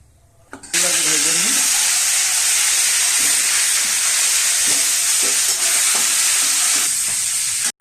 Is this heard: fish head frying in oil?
yes